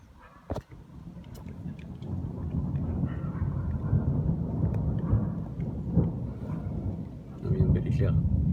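Thunder during a moderate summer thunderstorm in Amboise, France, a sharp crack near the start followed by a long low rolling rumble that swells again toward the end.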